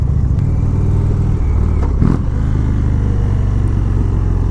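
A 2017 Indian Springfield motorcycle with stock exhaust runs loud and close with a steady low rumble, briefly shifting pitch as it revs; the exhaust note is moderate rather than harsh.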